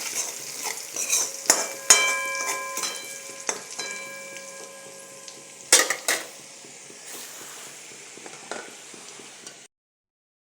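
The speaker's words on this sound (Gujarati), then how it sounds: "એમાં હવે આપણે અડધી ટેબલ સ્પૂન હળદર નાખીશું અને તેને મિક્સ કરીશું." Turmeric stirred into greens frying in a pot: continuous sizzle under sharp spoon knocks and scrapes against the metal, a few ringing clanks, before the sound cuts off near the end.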